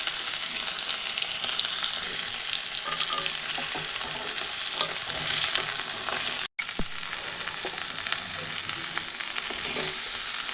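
Raw green banana and vegetable stalks frying in hot oil in a pan for a catfish curry, a steady dense sizzle that runs unbroken throughout, close and loud, with no talking.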